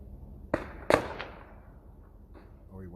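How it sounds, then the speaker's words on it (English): Gunfire at night outside a home, two sharp cracks in quick succession, the second louder, followed by a fainter third report and a fading echo, heard from a moderate distance. "followed by the sound of gunfire"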